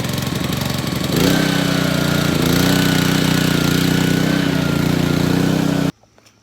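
A petrol-engine pressure washer fires up after a second of cranking, runs at a loud steady chug for several seconds, then cuts off abruptly into near silence.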